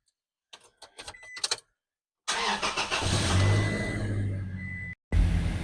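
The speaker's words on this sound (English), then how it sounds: "you're going to take your keys, you're going to start the car" A 2nd generation Toyota Tacoma with the 2.7L engine: a brief jingle of keys, a short pause, then the engine cranks, catches and settles into a loud, steady idle close by, with a momentary cut near the end.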